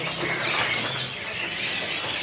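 High, thin chirps of a songbird for sale at a bird market kiosk come in short bursts over a steady background hiss, faint and somewhat distant.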